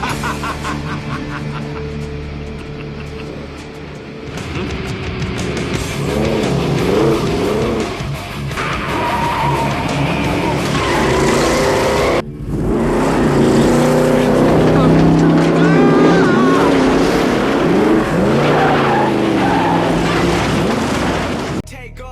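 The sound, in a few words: Dodge Demon and modded Honda Civic racing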